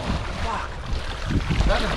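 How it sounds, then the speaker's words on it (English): A passing boat: a low rumbling wash of engine and water noise with wind buffeting the microphone, steady and fairly loud throughout. "That was a boat."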